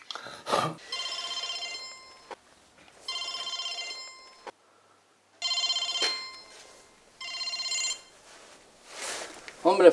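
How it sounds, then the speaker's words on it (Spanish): A telephone bell rings in several long bursts separated by pauses, clear and moderately loud, with brief noises and a voice between rings. "que me ha dicho Loli, que me acabas de llamar por teléfono."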